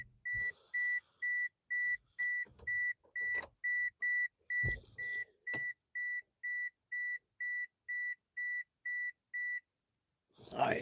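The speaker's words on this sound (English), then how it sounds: "I know y'all don't want to hear that beeping, because I know I don't" A car's key-in-ignition warning chime beeps steadily in a shop, a clean repeating tone roughly twice a second for about ten seconds, with a voice and a few knocks of work noise around it.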